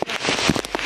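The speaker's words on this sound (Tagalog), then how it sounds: "Sobrang lakas ng ulan tol." Heavy rain pounding down outdoors, a dense, loud crackling patter with sharp bursts of drops, steady and close for under a second.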